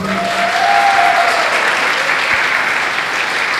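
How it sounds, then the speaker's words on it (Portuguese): A church festival congregation breaks into loud, sustained applause, a dense even wash of many hands clapping together for several seconds. "Uma salva de palmas para Jesus."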